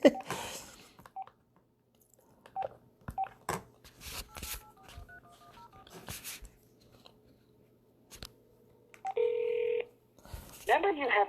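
A phone number is keyed in by hand as a run of distinct touch-tone beeps at steady intervals, accompanied by scattered clicks and background voices, and a longer tone comes at the end.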